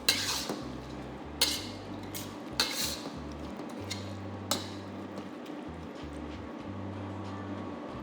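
Beef and onion stir-fry with green onions and a thickened sauce tossed in a pan: a handful of sharp metallic clanks and scrapes of spatula on pan, spaced a second or so apart over a steady low hum.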